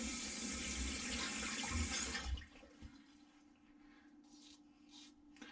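A bathroom water tap runs in a loud, steady gush for about two seconds to rinse a razor blade during a beard and mustache trim, then shuts off abruptly, leaving quiet room tone and a few faint rustles.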